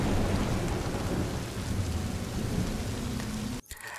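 Heavy rain pours in a dense, steady roar with a low rumble of thunder beneath it, loud and continuous before cutting off abruptly near the end.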